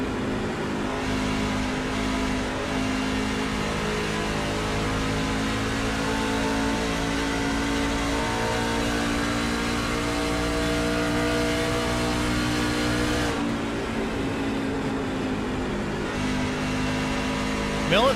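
On-board engine of a race truck held at full throttle at Charlotte in a racing simulation, a loud steady high-revving drone that dips briefly as if shifting, with commentary talking over it.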